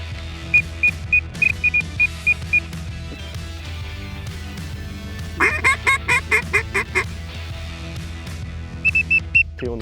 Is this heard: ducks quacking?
yes